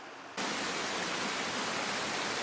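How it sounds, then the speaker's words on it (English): A mini waterfall rushes close by outdoors, a loud, steady broadband hiss that starts abruptly and then holds unbroken, with no voices over it. "this mini waterfall that's behind"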